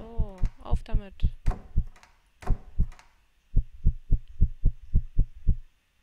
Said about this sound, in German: unser Herzschlag beschleunigt sich